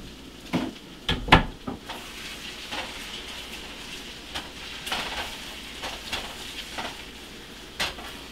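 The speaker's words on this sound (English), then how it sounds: "you always want to add the eggs last because they cook at sonic speed" Eggs frying in a pan for a breakfast bowl give a steady, faint sizzle, broken by a few louder clinks and scrapes of a utensil against the pan near the start and again toward the end.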